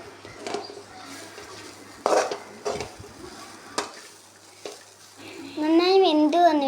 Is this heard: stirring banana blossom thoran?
yes